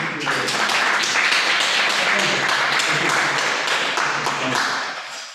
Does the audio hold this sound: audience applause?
yes